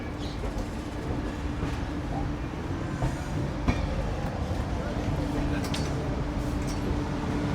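Golgumbaz Express at Vijayapura railway station, heard as a steady low train rumble and platform din that runs throughout with a sharp knock partway, and voices murmuring in the busy background.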